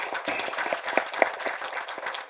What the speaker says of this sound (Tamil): இந்த அரங்கமே நிறைஞ்ச மாதிரி நல்ல கரகோஷம் கொடுங்க எங்கள் சாருக்கு